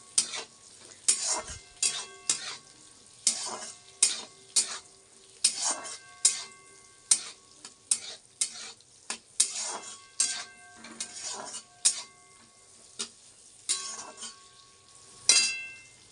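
Spices sizzle in a pan for chowmein while a utensil stirs and scrapes in repeated strokes, with clinks of metal against the pan throughout.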